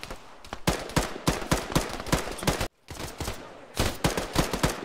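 Arma 3 video game gunfire crackles in dense, rapid volleys of overlapping shots, loud and continuous with a brief silent gap midway before the shooting resumes.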